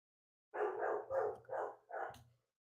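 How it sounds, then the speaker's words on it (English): A German Shepherd barks five times in quick succession, loud and close, each bark full and throaty with short gaps between them, and no voices alongside. "Pat, can you shut the dog up?"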